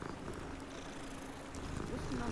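A small, thin-furred cat in Hogwarts Legacy purrs softly and steadily, a low continuous rumble heard faintly for the whole stretch with light background game ambience.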